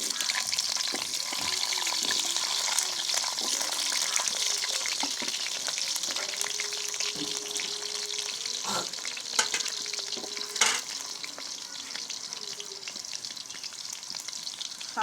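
Potato pieces with a little salt and turmeric frying in hot oil, a loud, dense, continuous sizzle heard up close for the whole stretch, with occasional clinks and stirring scrapes mixed in.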